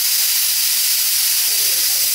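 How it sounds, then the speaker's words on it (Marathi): A loud, steady hiss of escaping steam rushes without pause, high and airy, like a pressure cooker venting. "कुकरचे झाकण बंद करून कुकरच्या 5 शिट्ट्या करून घ्यायच्या"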